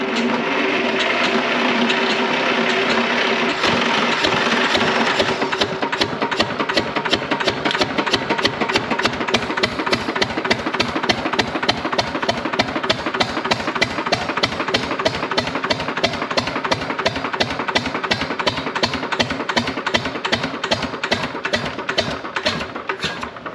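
An air-cooled Lister diesel engine cranks with a whirring drone, then catches and runs with a loud, rapid, regular knocking beat that continues steadily to the end.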